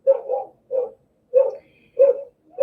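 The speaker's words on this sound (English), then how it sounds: "Just excuse my dogs barking." Dogs bark close by in a quiet room, five or so short, mid-pitched barks spaced roughly half a second apart, loud and alone with no talk.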